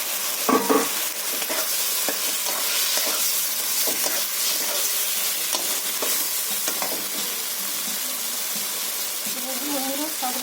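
Fried eggplant is stirred into a sizzling spice masala in a pan, giving a steady crackling fry. Intermittent scraping and clattering strokes of the spoon run through it, close and fairly loud, with no talk.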